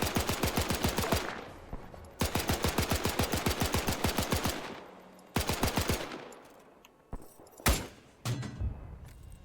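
Suppressing gunfire in Arma 3 combat: long, close, loud bursts of rapid automatic fire, three sustained strings broken by short pauses, ending with a few heavier single shots.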